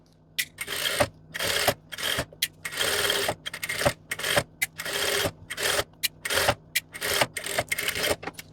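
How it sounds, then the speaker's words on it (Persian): A sewing machine stitches along the top edge of a shirt collar in stop-start runs, each burst of rapid needle chatter broken by short pauses and clicks, close and loud. "حالا به اندازه اضافه دوختی که گذاشته بودم لبه بالایی رو میدوزم"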